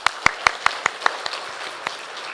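A church congregation claps in a quick, even rhythm, about seven crisp hand claps in a row that thin out and fade into a few scattered final claps.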